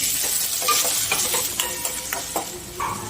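Green chilies and tomatoes fry in a pan with onion and garlic, a loud steady sizzle close by, broken by the scrape and clack of a spoon stirring every half second or so.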